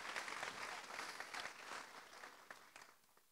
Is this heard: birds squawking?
no